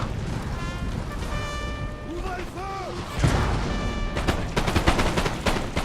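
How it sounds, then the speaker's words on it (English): Musket volleys in the Napoleon Total War game, rolling gunfire crackling in bursts over a background battle din, with horn-like tones early on and a dense cluster of shots near the end. "So they are firing off some shots."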